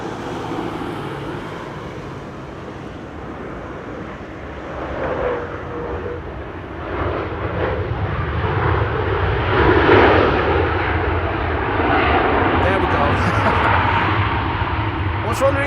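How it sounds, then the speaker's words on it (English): A Ryanair jet airliner lands at Amsterdam Schiphol, a broad, steady engine and rushing roar that swells toward the middle and holds, with a person talking over it throughout. "Ryanair flight 420 arriving from Dublin, Ireland"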